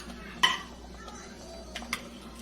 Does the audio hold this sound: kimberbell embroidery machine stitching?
no